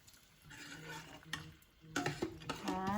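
A spoon stirs a hot tempering into a pot of tomato dal. Sputtering sizzle and soft scraping come up close in short bursts, growing busier and louder toward the end.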